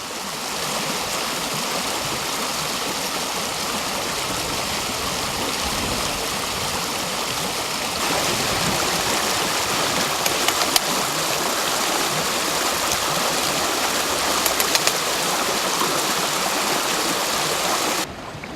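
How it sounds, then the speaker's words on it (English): A fast-flowing river stream rushes steadily and loudly nearby, a constant broadband roar of water with no voices throughout. "even in a fast-flowing stream like this"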